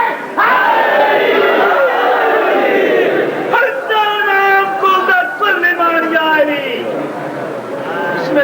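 A crowd at a 1997 religious gathering with a cleric loudly chants a devotional slogan in unison, the massed voices rising in repeated calls and responses, near and forceful throughout.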